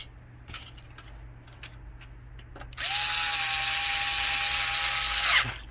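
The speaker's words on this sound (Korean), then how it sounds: "이 두 개 나사 두 개를 고정을 합니다." Two screws driven in while a computer is assembled: soft handling clicks give way to a loud, steady electric screwdriver whine that runs for nearly three seconds, then stops abruptly.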